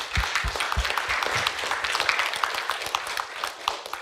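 Audience applause for project teams at a data project challenge presentation, a continuous dense crowd of clapping hands, fairly close and even, with a few heavier thumps early on.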